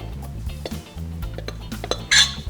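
Icing sugar, egg and ground almonds being mixed in a bowl, with utensils clinking and scraping against the dish in a steady, close, moderately loud rhythm and a sharper clatter near the end.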